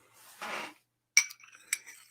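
A metal teaspoon clinks against glass while scooping baking soda into a beaker, with a soft scrape followed by two sharp, close clinks.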